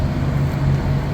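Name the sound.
trucks idling at a truck stop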